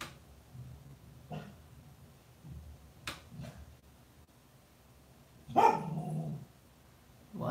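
A dog barks outside in a few short, separate bursts, quiet and somewhat distant, followed by a louder, longer barking spell toward the end over a low indoor background.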